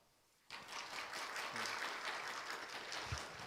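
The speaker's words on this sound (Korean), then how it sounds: "다 같이 한 줄로 서서 인사할 때에 큰 박수 부탁드리겠습니다" Applause from a church youth retreat congregation bursts in after a short quiet moment and then holds as a steady, dense wash of many hands clapping, with a few faint low thumps underneath.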